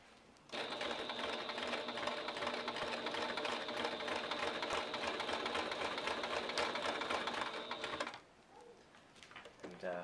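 A sewing machine stitches a doll bib, a fast, steady mechanical whirring that runs continuously for about seven seconds and then stops, followed by brief talking and handling noise.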